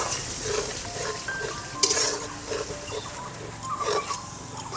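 Tomato puree for rajma frying in a pan, a steady soft sizzle broken by scraping stirs and one sharper clatter, close and without speech.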